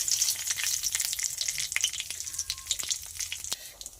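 Bay leaf, dried red chili and cumin seeds crackle in hot oil in a kadai, a dense steady sizzle close by with scattered sharp pops and a faint stirring scrape.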